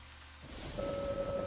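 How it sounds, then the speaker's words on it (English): Steady rain hiss from the video game Deadly Premonition comes in after a quiet start, with a thin sustained tone running underneath; no voices. "I hear rain."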